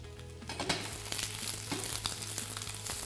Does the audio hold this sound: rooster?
no